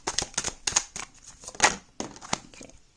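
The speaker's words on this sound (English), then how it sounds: "let me shuffle this deck one more time" Tarot cards being shuffled by hand, a run of crisp riffling and flicking bursts in uneven clusters, close and fairly quiet with short pauses between them.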